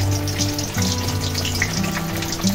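Bay leaves drop into hot oil in a pan while a vegetarian banana-flower curry is being cooked, giving a loud, continuous close sizzle and crackle throughout.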